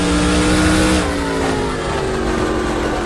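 Simulated NASCAR Busch North race car in NR2003 dropping a couple of gears, the loud engine note stepping down in pitch and continuing to drone steadily, no talking.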